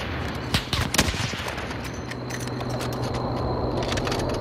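Gunfire in Call of Duty: Modern Warfare, a quick burst of sharp shots in the first second, then a lower rumble of game ambience with faint distant pops, no talk heard.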